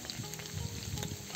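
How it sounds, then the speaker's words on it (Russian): Potatoes fry in a pan over a wood fire, giving a quiet, steady sizzle and crackle throughout, with no voices. "Картошка жарится."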